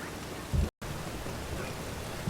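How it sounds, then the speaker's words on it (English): Steady rain from The Witcher 3 video game, a continuous broadband hiss with a brief dropout near the start and faint low thumps, no talking. "I just can't make the rain stop."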